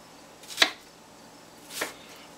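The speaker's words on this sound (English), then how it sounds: "We can cut that a little bit thick, and just give it a quick chop" Two separate knife chops through onion on a cutting board, crisp and close, spaced about a second apart in a quiet kitchen.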